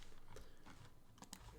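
Quiet typing on a computer keyboard, a few separate key taps and a short cluster of quick clicks, close and faint with no talking.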